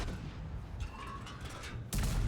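Tank cannon fire in World of Tanks as several tanks shoot at an enemy tank, heard as a steady rumbling din with a sharp, louder blast near the end.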